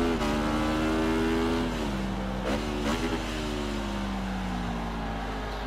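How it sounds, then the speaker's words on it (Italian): A twin-cylinder motorcycle engine in a racing video game revs hard and steadily climbs in pitch, with a brief dip like a gear shift, loud and continuous throughout. "Sentila come accelera la bicilindrica."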